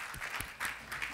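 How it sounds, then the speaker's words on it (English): Audience applause greeting a presenter walking onto the stage at a tech innovation event, a short steady patter of clapping from a crowd with a few sharper claps, moderately loud and without talk. "Jumanne Mtambalike, round of applause for him"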